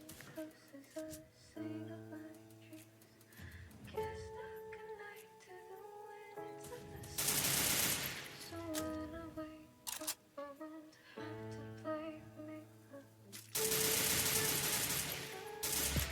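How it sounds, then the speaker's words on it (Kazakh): Enemy gunfire crackles in a Free Fire match, bursts of rapid shots mixed with game music and effects, some volleys loud and dense, others thinner and farther off. "мыналар атып жатыр экен достор енді"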